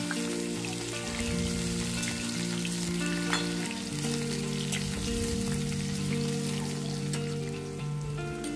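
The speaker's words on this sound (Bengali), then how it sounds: "আমি বেশ ভালো করে ডাঁটা আর আলুটা দুটো একসাথে বেশ ভালো করে ভেজে নেব" Amaranth stalks and potato pieces fry steadily in hot oil in a pan, a continuous close sizzle with crackling bursts and occasional stirring, no voices over it.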